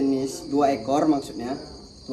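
Honey crickets from a cricket farm chirp in short repeated trilling bursts, close and fairly loud, with a speaking voice partly overlapping.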